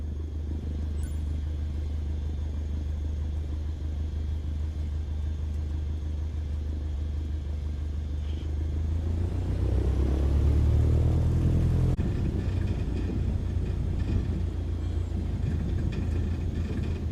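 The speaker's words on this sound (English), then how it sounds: "Go ahead and taxi into position." Aircraft taxiing on a runway in Microsoft Flight Simulator 2020: a steady low engine rumble and drone that swells slightly partway through, continuous and moderately loud with no speech.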